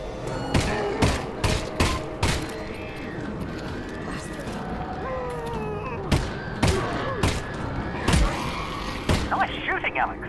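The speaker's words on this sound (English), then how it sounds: "Nice shooting, Alyx." Gunshots in the video game Half-Life: Alyx, a series of sharp reports spaced a second or so apart over game effects and low background sound, loud and close.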